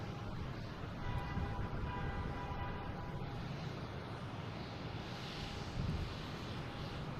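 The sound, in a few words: JetBlue Airbus A220 airliner landing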